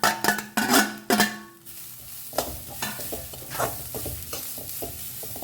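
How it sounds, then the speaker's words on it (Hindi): Grated coconut dry-frying in a pan without oil, with a spoon stirring and scraping against the metal in a few loud bursts at the start, followed by a softer, steady sizzle and occasional light scrapes. "ओके, कोकोनट डालते हैं और इसे ना बढ़िया सा ब्राउन कलर आने तक हमें फ्राई करना है"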